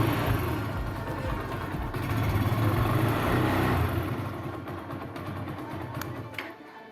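A motorcycle's electric self-starter, powered by a homemade 12-volt lithium iron phosphate battery with a BMS, cranks and the engine catches, settling into a steady running rumble close by before quieting near the end.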